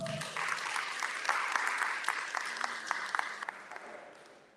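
A crowd applauds at a high school signing day at Western Hills High School, with steady dense clapping that swells and then thins into a few scattered claps near the end.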